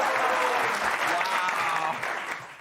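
A studio audience claps steadily and loudly for a few seconds at a television comedy show taping, a dense, even wash of hands with no break.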